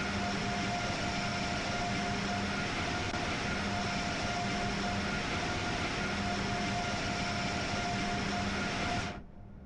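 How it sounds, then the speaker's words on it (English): A set of locomotives in Train Sim World 5 rumbling past in a steady, loud roar with a sustained engine drone, cutting off sharply at the end. "Another set of locos coming up."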